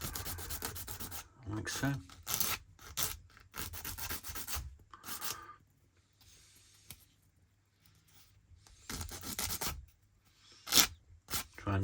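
Sanding stick rubbed against a small plastic part for a 1/72 Airspeed Oxford Mk2 model kit, in repeated close scratchy strokes with short pauses between bursts.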